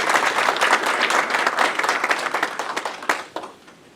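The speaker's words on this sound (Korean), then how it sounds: "우리 박수 한번 쳐주시죠" An audience at a mayor's town-hall dialogue with citizens in Eojin-dong, Sejong, breaks into warm, dense applause that holds steady for a few seconds, then thins to scattered claps and fades.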